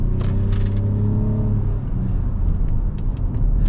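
A 2011 Lexus RX 450h hybrid SUV with a V6 engine gives a loud, close, steady rumbling drone with tonal hum, and a few brief ticks and clicks over the top.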